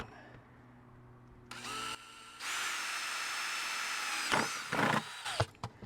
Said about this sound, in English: The first thing I'm going to be doing is drilling out a hole in the back of the